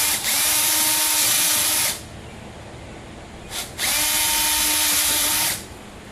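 Power drill boring holes into the metal frame of a custom grille for a 2001 Dodge Ram 1500, two loud high-pitched whining bursts of about two seconds each separated by a quiet pause.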